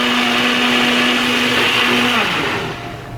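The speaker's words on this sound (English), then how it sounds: "all I'm doing is blending it up like this" A kitchen blender liquefies Mexican-style salsa ingredients with a loud, steady motor whir that holds for a few seconds and then winds down at the end.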